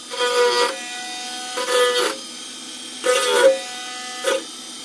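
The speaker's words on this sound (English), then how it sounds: "this is a very tough helmet to actually do sanding on" Four short bursts of rasping sanding against a hard plastic 3D-printed helmet, close by, separated by brief pauses, over a faint steady background hum.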